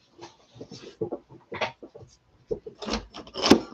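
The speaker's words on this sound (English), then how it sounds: "I'm gonna use this scraper." A scraper tool dragged across a mixed media journal page makes a series of short, close rasping scrapes in uneven bursts with pauses between, with no voice heard.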